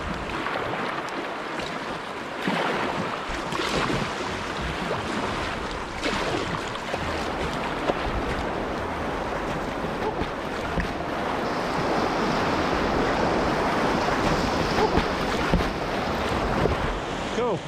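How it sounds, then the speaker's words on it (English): Whitewater river wave roaring steadily as a paddler glides toward it to surf, broadband rushing water with wind noise buffeting the microphone throughout, loud and close without talk. "Nice little wave here, maybe."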